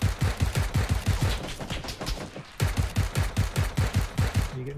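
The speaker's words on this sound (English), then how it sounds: "Are you getting shot at?" Gunfire in the video game PUBG, rapid bursts of loud automatic shots in quick rhythmic strings, a brief pause midway, then another sustained burst.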